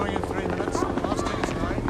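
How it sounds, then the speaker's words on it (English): The chopping thrum of a helicopter fills the scene, steady and loud, with voices talking over it. "Let's have just the helicopter in that scene."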